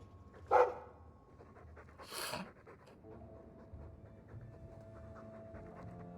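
Mabari war dog from Dragon Age II panting in a game scene, a quiet steady breathing rhythm with a couple of louder bursts near the start, heard close over low background hum.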